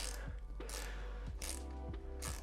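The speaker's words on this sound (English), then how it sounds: "as I put that into the bolt and start tightening" A torque wrench tightens a bolt with a few evenly spaced mechanical ratcheting clicks, close and fairly quiet, repeating about four times over a low background hum.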